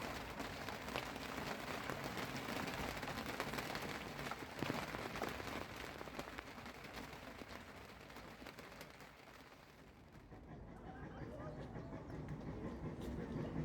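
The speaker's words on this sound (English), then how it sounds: "It wasn't too long after that the heavy rain started." Heavy rain pours down at the Tanfield Railway in a dense, continuous hiss that briefly thins near the end before building back up.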